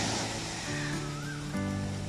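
Gentle sea waves wash steadily onto a quiet, nearly empty beach in Phang Nga, Thailand, a soft continuous surf rush heard alone without talk.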